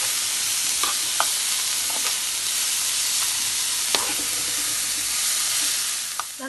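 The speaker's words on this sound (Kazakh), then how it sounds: "Мінекей аздап пияз салдық, енді қуырып аламыз" Chopped onions and champignon mushrooms fry in oil in a pan, giving a steady close sizzle with a few soft stirring clicks and scrapes throughout.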